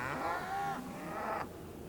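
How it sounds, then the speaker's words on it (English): Cattle mooing in a crowded feedlot, with two long, loud, harmonic lowing calls following one after the other, close and unaccompanied by speech. "thousands of cattle are brought together to be confined and fattened"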